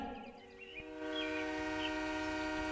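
A train rumbles past with a sustained, droning tonal hum that grows louder and holds steady.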